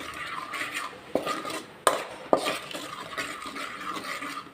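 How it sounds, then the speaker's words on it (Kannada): Red chili powder frying in a pan, with a low hiss under repeated scraping and clinking stirring strokes and a few sharper knocks of a spoon against the pan, close and fairly quiet, no voices. "ಈ ಥರ ಸ್ವಲ್ಪ ಮೊದಲಿಗೆ ಫ್ರೈ ಮಾಡ್ಕೊಳ್ಳೋಣ."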